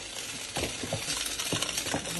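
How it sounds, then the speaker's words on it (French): Thick okra (gombo) sauce is stirred in a cooking pot, with a few close, sharp scraping and clinking strokes of the utensil against the pot over a soft background. "Nous allons mélanger, bien mélanger."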